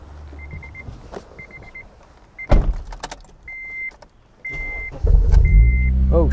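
A car's engine idles low and steady while its throttle body is checked for a rough idle, broken by repeated short electronic beeps and a few sharp clunks from inside the vehicle.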